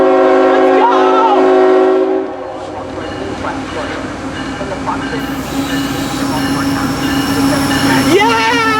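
A CSX freight train at Point of Rocks passes close with a loud sustained horn blast, then a rumbling roar of rail cars, wheel squeal and a short horn note near the end, with people talking excitedly.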